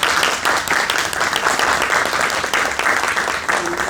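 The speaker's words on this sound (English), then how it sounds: "please, a round of applause" A round of applause fills a school board meeting room, dense steady clapping from a seated audience, loud and continuous throughout.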